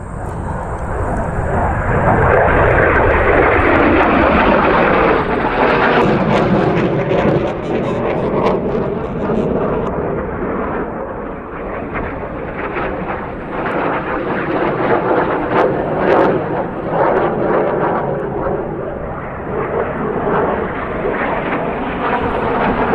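Jet engines of T-38 trainers on the runway at Cleveland Hopkins airport, a loud continuous roar that swells early and stays strong throughout, heard from a distance.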